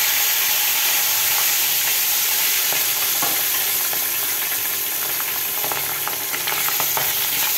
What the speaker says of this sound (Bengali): এই তেলের মধ্যেই মাছ ভেজে নিব।